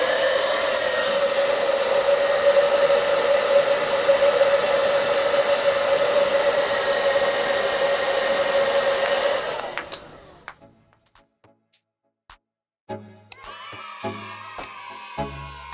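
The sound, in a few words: airflow blowing to levitate ping pong balls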